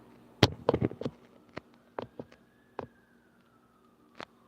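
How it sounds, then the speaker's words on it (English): A faint siren wails in the distance beneath a series of sharp nearby knocks and clatters. "you guys hear the sirens?"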